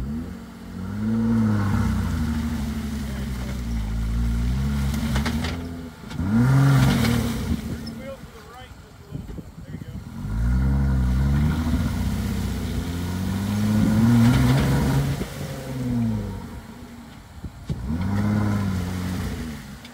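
An off-road Jeep engine revs hard in repeated surges as the vehicle rocks back and forth in mud, low and close, with people talking over it between the bursts.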